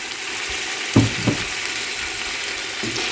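Boiled chicken added to spices frying in a pot over medium-high flame, a constant loud sizzle with a couple of thudding drops and spoon scrapes near the middle and another at the end, no speech.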